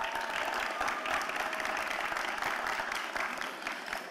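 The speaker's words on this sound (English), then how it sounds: "I would like for you to give your family and your friends a round of applause" Graduation ceremony audience, the class of 2023 and guests, applauding steadily, a thick continuous wash of clapping from a large crowd.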